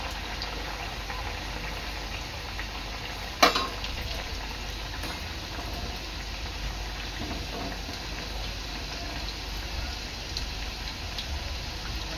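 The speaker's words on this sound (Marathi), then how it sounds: "याच्यात मी पिझ्झा पॉकेट्स तळून घेते." Pizza pockets frying in hot oil, a faint, even crackling sizzle that holds steady throughout, with one sharp clink partway through and no one talking.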